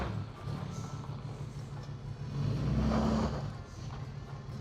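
An $800 used car's engine roars steadily close by, swelling in loudness midway as it revs under acceleration, with a low continuous rumble throughout and no talk.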